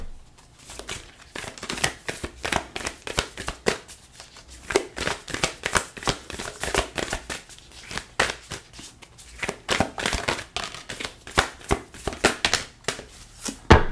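Tarot cards are shuffled and handled up close in repeated quick bursts of riffling and flicking, with short pauses between rounds, crisp and fairly loud with no talking.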